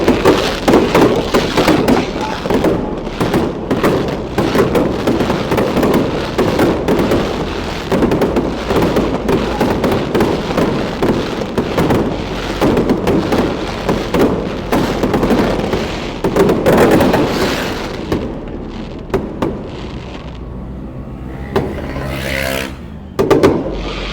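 Fireworks going off near Saphan Phut bridge at night, a steady crackling barrage of pops and bangs that carries on for a long stretch, with scattered voices of a crowd faintly underneath.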